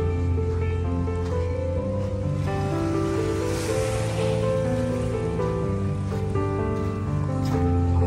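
Sea waves wash steadily onto Dolomite Beach, a continuous broad surf wash heard close and fairly loud, with no talking over it.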